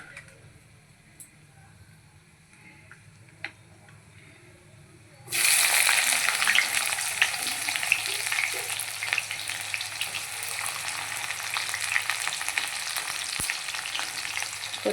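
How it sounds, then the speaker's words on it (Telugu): Tempering seeds hit hot oil for a tamarind rasam, with onion and green chilli added next: a quiet stretch with a few clicks, then a sudden loud, continuous sizzle that holds to the end. "చూడండి, పోపు గింజలు వేసాం కదా, వేగుతున్నాయి"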